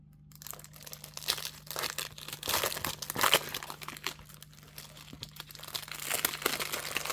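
Plastic bags crinkle and rustle continuously in irregular bursts during quilting work, close and fairly loud over a steady low machine hum.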